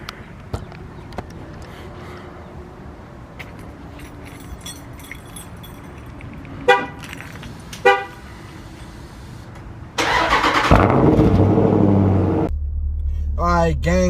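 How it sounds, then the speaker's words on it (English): A car engine cold-starts at a meet-up, cranking and catching around the midpoint, then settling into a loud, steady idle rumble that holds to the end, with a couple of brief horn-like toots earlier and some background chatter. "I'm gonna go ahead and give y'all this cold start"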